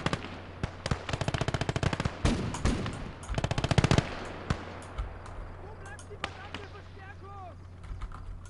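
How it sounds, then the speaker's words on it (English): Anti-tank rifle shots and machine gun bursts in the World War II strategy game Call to Arms: Gates of Hell, Ostfront, with rapid clattering volleys, then scattered single heavy cracks and faint distant fire. "It sounds to me like that's an anti-tank rifle firing there."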